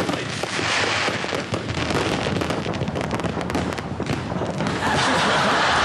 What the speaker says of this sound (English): there's the official APEC fireworks over Sydney Harbour